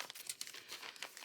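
Paper is folded in half to make pockets for a journal. Soft, close crinkling and creasing comes in short, uneven bursts with no talking.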